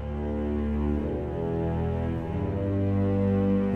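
Sustained low bass notes from a free orchestral sample library, a dense, steady, loud tone filling the low end with slight changes in pitch partway through, no voices over it.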